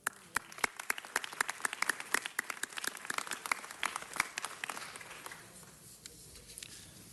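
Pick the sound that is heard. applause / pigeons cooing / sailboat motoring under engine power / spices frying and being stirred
applause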